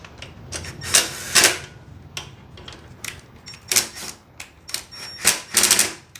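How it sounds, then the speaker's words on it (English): A socket wrench tightens bolts on a Toro mower, giving bursts of quick, crisp ratcheting clicks close by, separated by short pauses, with no talking. "take your 3/8 nut set or socket and tighten up the bolts"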